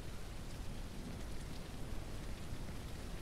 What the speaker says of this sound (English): there's rain, so you guys will be fine.